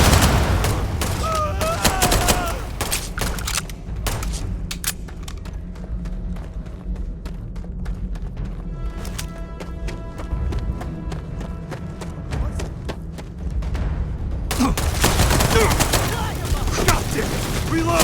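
Gunfire rattles through a Starfield firefight as sustained bursts of shots with crashing impacts. A short quieter stretch breaks the shooting before it picks up again, and game sounds run underneath throughout.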